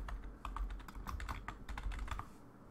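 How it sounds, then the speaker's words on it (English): Quiet, quick keystrokes clatter on a computer keyboard in irregular bursts, close and faint, with no talking. "I think I typed that correctly."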